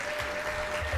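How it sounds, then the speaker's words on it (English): A crowd at a university staff development event claps steadily for about a second, a dense, even patter of many hands. "Let's give Dr. Biazzo one more round of applause."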